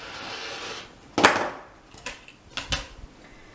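A blade slices corner to corner through a fabric quilt square along a ruler, a brief rough scraping stroke followed by several sharp knocks and clatters of handling, close and fairly loud.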